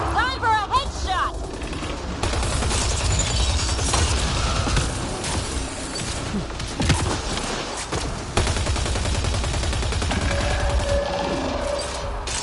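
Sustained automatic gunfire from the sci-fi shooter Mass Effect: Andromeda, loud bursts and rapid fusillades with impacts and mechanical clatter running almost continuously, with a brief voice at the start.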